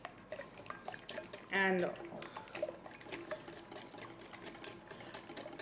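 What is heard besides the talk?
whisking wet ingredients with apple cider vinegar for bread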